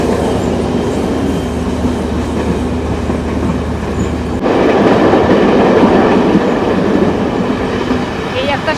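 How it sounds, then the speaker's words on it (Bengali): An intercity express train from Jaffna to Colombo races at high speed past small stations, a loud continuous rumble and rattle of wheels on rails that grows louder and rougher midway, with no voices. "আমাদের ট্রেনটা দিয়ে দিয়েছে এখন মারাত্মক স্পিড।"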